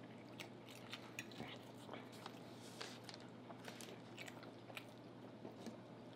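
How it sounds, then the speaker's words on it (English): Close, quiet chewing and biting of food during an eating challenge, soft crunches and wet squishes repeating irregularly, with faint voices in the background. "I got to chew a little bit"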